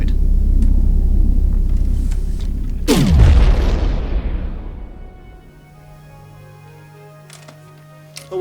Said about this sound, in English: Shooting those asteroids